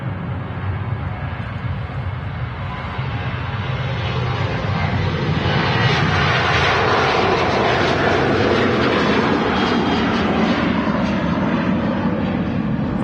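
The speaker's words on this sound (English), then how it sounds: "Ryanair 737-800 departing there" A Ryanair Boeing 737-800 departs Manchester Airport with a broad, rumbling jet roar that swells and stays steady from a distance.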